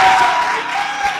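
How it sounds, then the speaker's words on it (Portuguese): Congregation clapping during a Brazilian Catholic worship gathering, a dense, steady burst of applause filling the room, loud and close, with a few voices mixed in. "Você pode dar um glória a Deus e uma salva de palmas a Jesus"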